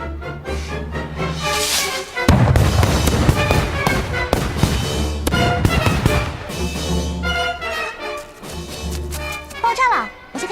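An animated-series explosion bursts in as a loud, broadband blast, set against swelling dramatic music and voices.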